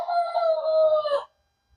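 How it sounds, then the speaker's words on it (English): A young backyard rooster, still finding his voice, lets out a single loud, drawn-out crow up close that stops abruptly into quiet. "we found out we have a rooster"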